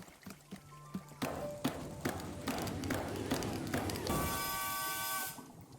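Water being poured for tea in the video game Wanderstop: a run of soft rhythmic taps and clicks, then a steady bright trickle of pouring for about a second, close and moderately quiet.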